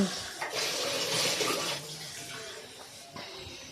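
Water pours into a pan of jaggery for making syrup, a bright splashing stream that rises and falls in a few short bursts, close up, with faint talk in the background.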